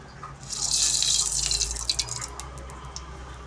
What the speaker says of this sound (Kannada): ಮೊದಲಿಗೆ ಒಂದು ಕಡಾಯಿ ಇಟ್ಕೊಂಡಿದ್ದೀನಿ ಈಗ ಎಣ್ಣೆ ಹಾಕೋತಾ ಇದ್ದೀನಿ